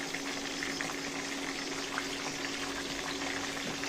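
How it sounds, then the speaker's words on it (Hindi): Eggplants with garlic fry in a pan, giving a faint, continuous bubbling sizzle that runs evenly throughout without talk. "तो जी हमारे बैंगन फ्राई हो रहे हैं"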